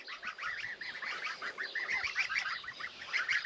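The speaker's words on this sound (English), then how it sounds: "Hello goslings." Young goslings, about three and a half weeks old, in a backyard poultry setting, give a continuous chorus of soft, high peeping honks, fairly faint and steady with no talk.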